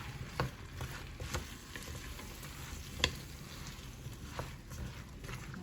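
Loaded potato soup ingredients cook in a pot on low heat while a spoon stirs them. A soft, steady sizzle runs underneath, broken by scattered scraping knocks of the spoon against the pot. The sound is fairly quiet and there is no talking.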